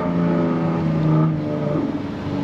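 Jaguar F-Type with a 3.0-litre supercharged V6 and sport exhaust, a loud close engine note holding a steady deep hum and then shifting pitch as it revs, with no voices.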